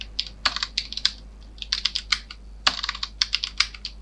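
Keys clatter on a computer keyboard as a Python file name is typed, quick bursts of crisp, close clicks in uneven runs with short pauses between them and a low steady hum underneath.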